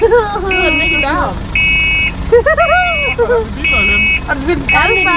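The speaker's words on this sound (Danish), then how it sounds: "nu bliver hans alarm ved med at gå af" A car alarm goes off at a tractor pulling event in Sønder Vissing, a loud, close electronic wail that repeats in pulsing bursts while people talk over it.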